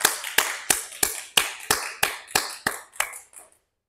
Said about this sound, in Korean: 영광의 박수 한번 크게 올리길 원합니다